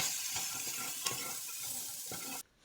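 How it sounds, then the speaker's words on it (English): Onions sizzle in a hot pot after bacon fat is drained, a quiet, steady frying hiss with a few soft stirring knocks, ending abruptly in near silence. "Now it's time to add onions"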